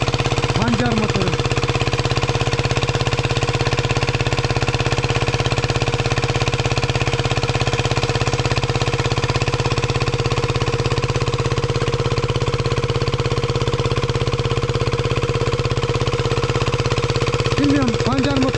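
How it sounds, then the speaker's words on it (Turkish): A pancar motoru, a single-cylinder water pump engine used to irrigate garlic fields in a Turkish village, runs with a loud, steady mechanical drone and rapid regular thumping that continues unbroken throughout. "Burada su motoru var bak."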